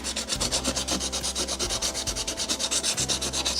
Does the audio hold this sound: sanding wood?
yes